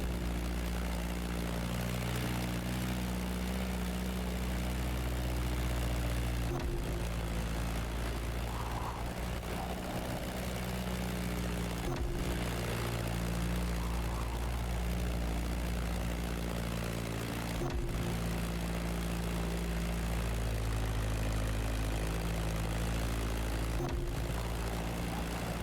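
A propeller aircraft flies in The Crew Motorfest, its engine a steady, loud drone with a constant low hum that holds throughout, broken by a few brief dips.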